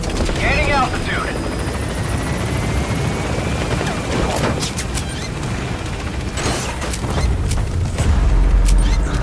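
The Pequod helicopter in the Metal Gear Solid V video game gains altitude with a loud, steady rotor roar and low rumble, swelling toward the end, while a voice speaks briefly over it.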